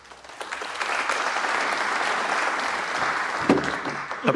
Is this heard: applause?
yes